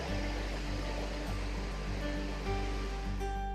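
A waterfall in Finland roars as a steady, dense wash of falling water, continuous and fairly distant throughout, with no voices over it.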